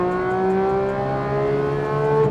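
A DeMan-built 4.5-liter Porsche GT3 Touring with a manual gearbox revs hard and steady, its engine note holding close and loud as the driver works down through the gears.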